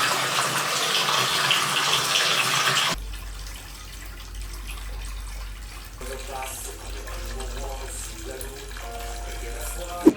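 Water from a tap pours steadily into a bathtub being filled for a bath, a loud broad rush for the first three seconds, then a quieter, lower flow continues under faint background sounds and a brief click at the end.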